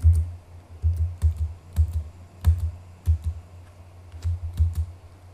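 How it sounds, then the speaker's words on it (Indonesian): Someone types a command on a computer keyboard while configuring a campus network, with a steady run of close, crisp key clicks and brief pauses, no talk. "Ketik do show run"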